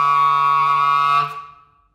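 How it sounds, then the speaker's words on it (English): An extreme squeak on a clarinet: a piercing, sustained high tone, steady for just over a second before fading out alone. "And that's an extreme version of a squeak"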